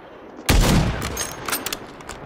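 A loud sniper rifle shot in a video game opens with a sharp, heavy crack and a decaying tail, followed by a few smaller sharp impacts.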